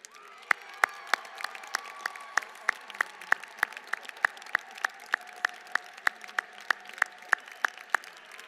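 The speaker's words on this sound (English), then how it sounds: "Will the class of 2017 please stand and join me in applauding your families and friends?" Graduates and guests applaud at a fashion college commencement ceremony, a roomful of steady clapping with light cheering, marked by sharp, rhythmic individual claps near the microphone repeating about three times per second.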